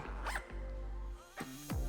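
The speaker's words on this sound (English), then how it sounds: "Take the bag, just push it over, close the zipper." A camper cabin bag is zipped shut, giving a quick rasping pull near the start and two more short zips toward the end, close and fairly quiet over a low steady hum.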